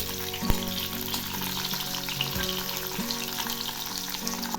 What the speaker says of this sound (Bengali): ফুলকপিগুলো আরেকটু ভাজবো।